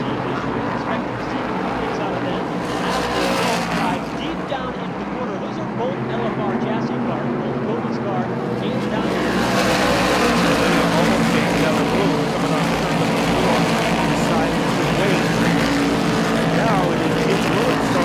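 Whelen Modified Tour race cars roar continuously around the banked Thompson Speedway oval at the 2016 Ice Breaker, their loud engine drone swelling as the pack passes, with a commentator talking over it throughout.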